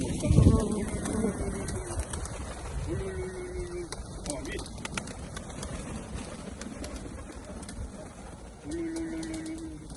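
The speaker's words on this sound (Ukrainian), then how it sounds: "Кормим птицу в вечернее время." Pigeons being fed in the evening coo in several short throaty calls spread across the scene, close by, with a voice and rustling in the background.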